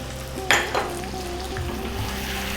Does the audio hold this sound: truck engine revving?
no